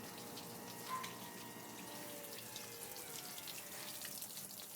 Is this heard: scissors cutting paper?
no